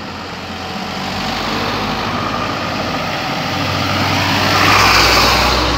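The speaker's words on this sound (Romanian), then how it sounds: "mașini de pompieri" A fire truck engine runs at a firefighters' festival in Trofaiach, Styria. The low, steady idle rumble swells somewhat louder near the end, with no talk over it.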